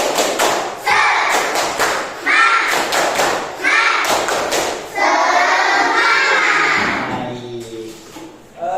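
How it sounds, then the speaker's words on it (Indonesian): Children and a teacher in a classroom perform a tepuk semangat chant, with sharp, loud rhythmic claps and thumps alternating with shouted chanted phrases, in bursts that end in a long collective shout. "Yuk sama-sama tepuk semangat."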